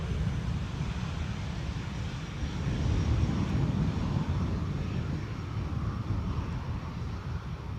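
A Boeing 757 airliner arrives at Schiphol, its distant, steady low-frequency engine rumble swelling slightly midway, with wind buffeting the microphone.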